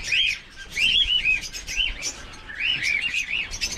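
African lovebirds kept in a cage give repeated high, bright chirps and short warbling calls in quick bursts, fairly close with a quiet background.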